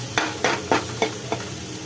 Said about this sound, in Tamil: நெய்யிலே இந்த கேரட்டை கொஞ்சம் வதக்கலாம்